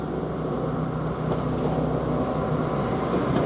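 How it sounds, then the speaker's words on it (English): A Greater Anglia class 755 passenger train at Norwich station gives off a steady low rumble with a constant high whine, a near, even drone that holds throughout with no voices. "Now we've got a Greater Anglia train, which is a 1258 service towards Lowestoft"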